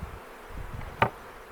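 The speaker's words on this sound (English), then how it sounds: "Oh yeah, it's just full of bees." Honey bees from a freshly caught swarm hum in a low, close drone around the hive box, with a brief sharp knock partway through.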